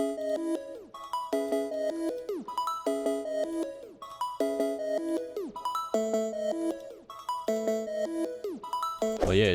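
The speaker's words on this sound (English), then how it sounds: "But with the Grossbeat presets, it sounds like this." The same FL Studio bell-like synth melody is processed with Grossbeat presets, so its notes are chopped, stuttered and pitch-bent in a rhythmic repeating pattern, ending in a brief noisy sweep, with no voices.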